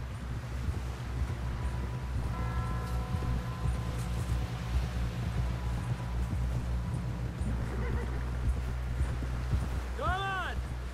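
A horse gallops in Red Dead Redemption II with a steady rhythmic clip-clop of hooves under a low droning score, while voices speak over it and a brief whinny-like call rises near the end.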